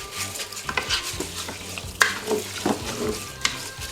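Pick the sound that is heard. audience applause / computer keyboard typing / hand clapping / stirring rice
stirring rice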